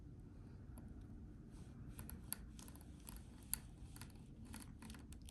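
A small craft knife scores a diamond painting cover sheet in a quiet room, producing faint, soft scratching strokes with a couple of small clicks.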